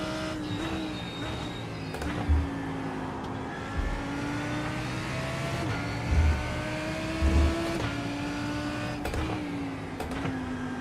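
A race car engine in iRacing at Watkins Glen drones steadily at moderate distance, its pitch dropping and climbing as the driver downshifts and pulls back up through the gears.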